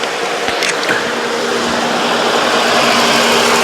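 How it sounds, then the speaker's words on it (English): Radiator cooling fan on a 2006 Honda Ridgeline kicking on, a steady close whirring hum over the running engine, continuous and fairly loud, with a faint steady tone underneath. "There goes my cooling fan. I want to show you this cooling fan just kicking."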